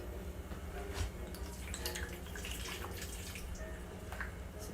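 E&J brandy pours into a pot of braised short ribs, giving a soft, steady trickle with faint drips. It is close and quiet, with no talking.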